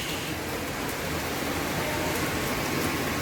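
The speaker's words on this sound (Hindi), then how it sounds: "और तेज हो गई है तो बारिश," A steady roar of heavy rain fills the air, continuous and unbroken, with drops pattering densely on nearby surfaces.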